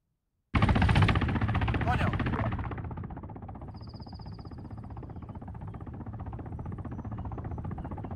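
A helicopter makes a drive-by in the video game Arma 3: a sudden loud burst of gunfire opens, then fades into a steady, fainter rotor and engine drone that holds to the end.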